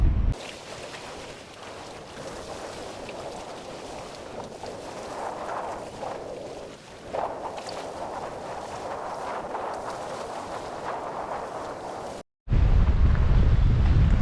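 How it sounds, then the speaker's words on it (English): Strong wind gusts across a lakeside campsite on a cloudy day with choppy water, a steady loud rushing roar of wind buffeting the microphone, broken by a brief dropout near the end before returning louder. "It's windy, cloudy, choppy water, but I'll give it a go anyway."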